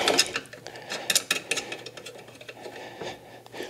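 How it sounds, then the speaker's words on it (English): A wrench tightens lock nuts while electric brakes are installed on a G-body Chevrolet Monte Carlo SS, giving quick ratcheting clicks and metallic rasps in short bursts, close and fairly loud, with no talking. "then we'll snug them up with the wrench here in a second"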